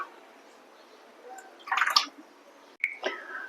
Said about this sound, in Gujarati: હવે જે આપણું આ દૂધ સરસ ઠંડુ થઈ ગયું છે એમાં હું આ બધા સાબુદાણા ઉમેરી દઈશ અને મિક્સ કરી લઈશ